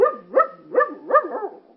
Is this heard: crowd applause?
no